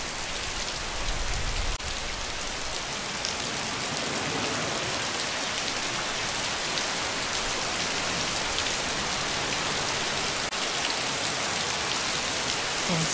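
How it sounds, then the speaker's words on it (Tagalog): Heavy rain pours steadily on Guimaras Island, a dense, loud, unbroken hiss of drops hitting surfaces throughout, with no voices. "Super lakas ng ulan."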